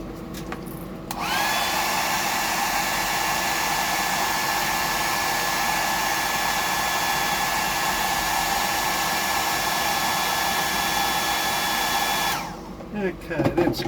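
A hair dryer blasts steadily at close range to dry paint on a Bug DD fishing lure, switching on after a second and running as a continuous whining roar for about eleven seconds before cutting off.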